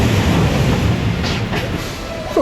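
A loud, continuous rushing rumble of a theme park roller coaster train on its track, ending in a faint squeal as it brakes.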